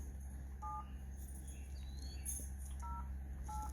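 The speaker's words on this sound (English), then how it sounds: "So dial his number." A phone number dialed on speakerphone: a few short dual-tone keypad beeps spaced apart, faint under a steady low hum and background noise.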